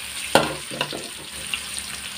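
Onion hits hot ghee in a pan with a sharp clatter, followed by a soft, crackling sizzle that fades and stays quiet.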